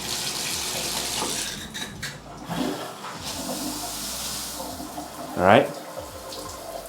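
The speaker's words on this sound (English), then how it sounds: "So you see how there's water coming out from right here, and there's also water coming out from right there" AquaDance high pressure shower head spraying water in a steady hiss, with a brief louder splash near the end; a voice speaks briefly over it.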